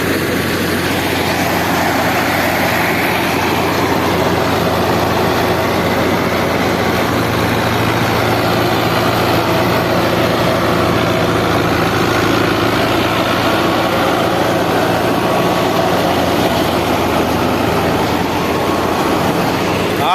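A New Holland Fiat 640 tractor engine drives a thresher with a loud, unbroken, close-up drone and mechanical rumble that holds steady for the whole stretch, with no voices.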